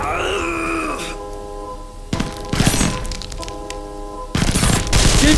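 Gunfire during a building assault in Global Ops crackles in bursts of sharp, shattering impacts between stretches of tonal game music, loud and close, with a strained voice groaning at the start.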